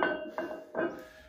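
Pig iron weight plates clanking together in a garage gym, a few short metallic clinks and knocks, close and fairly quiet, with no voices.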